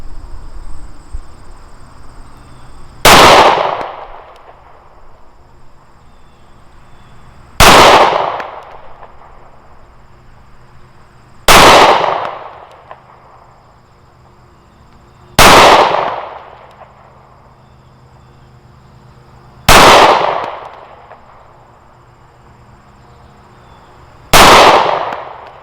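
A Bersa BP9cc 9mm pistol fires 124 grain Federal rounds at a target 15 yards away outdoors, six loud, sharp, evenly spaced shots each with a short decaying echo and faint ambient insect noise between.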